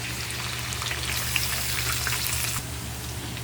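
Pork strips and chicken breast fry in hot oil, giving a steady, loud, close sizzle with bright crackling throughout and a slight drop in intensity near the end.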